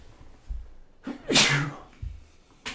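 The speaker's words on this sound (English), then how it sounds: "I have to sneeze." A single loud sneeze up close, preceded by a quick breath in, with quiet background before and after.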